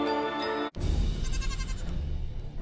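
An evil goat in the VR game Deadly Daycare VR gives a short, loud bleat, then a dense, noisy game-sound texture follows after a brief break.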